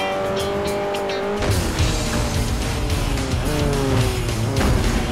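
A damaged car engine in Forza Motorsport 4 strains under held throttle, a steady loud racing drone with tire squeal and rising engine tones throughout.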